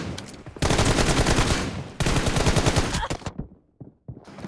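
Rapid automatic gunfire in the Free Fire battle royale game, loud and close, with two sustained bursts of fast shots followed by a few scattered single shots and a short final burst.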